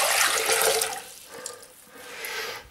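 Water rushes from a tap into a container, loud and steady at first, then easing off before the flow surges again, with no talking.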